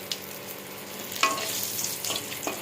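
Bay leaf and dried red chili frying in hot oil in a pan, a steady close sizzle with a few sharp stirring clinks and scrapes near the middle and end of the short stretch.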